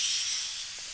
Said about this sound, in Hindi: ये किसकी आवाज है? अरे दाल चढ़ाइए चने की आपके लिए कुकर में।